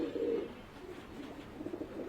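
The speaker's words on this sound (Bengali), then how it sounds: "এই যে দেখতেই পাচ্ছেন মাশাআল্লাহ অনেক অনেক কবুতর" Pigeons cooing inside a crowded loft in Dhaka, a low murmuring chorus of overlapping coos that swells at the start and end, near and continuous.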